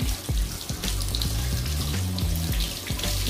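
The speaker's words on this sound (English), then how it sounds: "So now you just wash it until the water gets clear" Tap water runs steadily into a sink while a tie-dye shirt is rinsed by hand, with splashing and shifting gurgles as the fabric moves under the stream; no one speaks.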